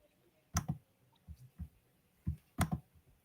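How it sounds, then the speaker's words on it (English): Computer mouse buttons clicked in a few quick pairs and singles, close and crisp against a quiet room, with no talking. "Clicking the wrong buttons."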